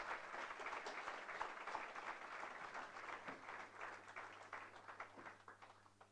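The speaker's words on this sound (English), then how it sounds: "A huge round of applause for the computer science fraternity of AMU" Applause from a conference audience at Aligarh Muslim University, a steady, faint wash of clapping heard from a distance, lasting throughout with a low hum underneath.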